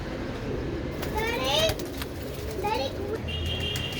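Flying pigeons coo and trill in a few short bursts over a busy outdoor background, with children's voices and chatter nearby.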